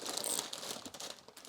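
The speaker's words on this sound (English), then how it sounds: "I'm just going to be a bit of rustling while I take things out." Packaging crinkles and rustles as shibori craft supplies are unpacked, a continuous close crackling with small sharper crunches throughout.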